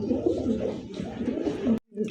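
A pair of Lahori pigeons with feathered feet, kept by a breeder, coo in a steady, low, throaty run of overlapping calls close by, breaking off briefly just before the end.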